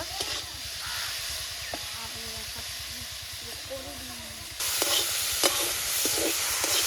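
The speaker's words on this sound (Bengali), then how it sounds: "মাছটা লাল লাল করে ভেজে নেব" Prawns fry in a hot pan with a steady, close sizzling hiss and occasional scraping stirs. The sizzle grows louder partway through, and faint voices can be heard in the background.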